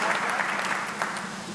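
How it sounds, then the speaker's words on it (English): A novelty box of applause lets out a short burst of recorded clapping and faint cheering, dense and fairly loud, lasting just over a second. "Open it up and it actually claps."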